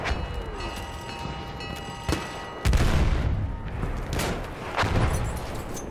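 Artillery fire in Battlefield 1 on a Rush map: loud, heavy booms and distant blasts repeat irregularly over a rumbling battle backdrop.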